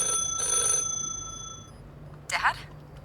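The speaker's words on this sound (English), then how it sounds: "Why is there a telephone ringing?" Telephone ringing in the video game H.E.L.L.O. W.O.R.L.D, with two short bursts of bell-like ringing early on over a low hum. A voice briefly follows near the end.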